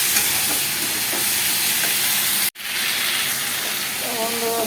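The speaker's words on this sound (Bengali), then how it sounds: "আমি ভালো করে মশলা দিয়ে পুরো কষিয়ে নেব।" Eggs frying with spices in a pan, a steady loud sizzle and hiss with stirring scrapes, briefly cut off midway and then resuming.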